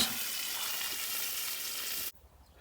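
Two fish frying in a pan for a curry, a steady dense sizzle that runs loud and even for about two seconds, then cuts off abruptly to near quiet.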